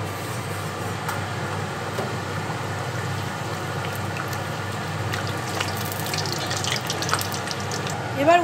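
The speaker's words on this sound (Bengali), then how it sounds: "এইবার গরম তেলে আমি কড়াইশুঁটির কচুরি ভেজে নেব।" Pea-stuffed kachori fry in hot oil in a kadai, giving a steady, even sizzling hiss that runs throughout at close range and swells slightly near the end.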